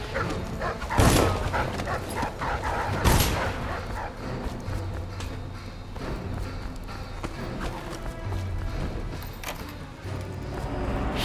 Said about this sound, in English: Dogs everywhere.